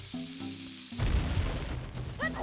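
A bomb goes off in Ocarina of Time, a muffled low boom that cuts across the game's soft background music and rumbles out for about a second, with faint chimes following.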